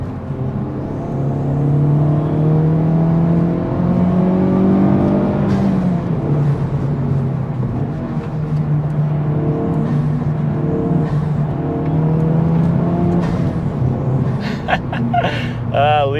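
A Honda Civic Type-R FL5 turbo engine fitted with an Armaspeed carbon fiber intake revs up and settles back several times, close and loud, its pitch rising and falling, with a voice talking over part of it.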